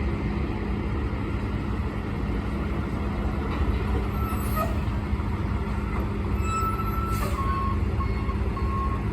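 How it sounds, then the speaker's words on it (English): A truck backs up with repeated high reversing beeps at a CSX train derailment cleanup in Wyoming, the beeps ringing out over a constant heavy diesel rumble from the site. "Let this truck back up."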